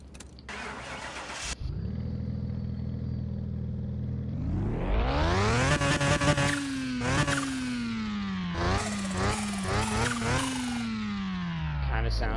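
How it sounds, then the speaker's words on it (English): A simulated rotary engine of an RX-7-style car in a restoration video game cranks, catches and idles, then revs repeatedly in sharp rising bursts with a raspy tone, heard up close and loud throughout. "Kind of sounds like a rotary."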